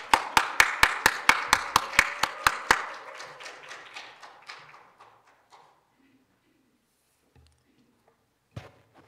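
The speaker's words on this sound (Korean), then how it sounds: "박수로 환영하겠습니다" A church congregation claps in welcome of a speaker. Sharp rhythmic group claps at the start soon spread into looser applause that fades away within about six seconds, leaving near silence with a faint knock.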